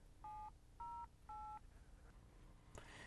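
Keypad tones from a 1995 Buick cellular car phone: three distinct beeps at a steady pace, each about a quarter second, followed by quiet background and a brief rustle near the end.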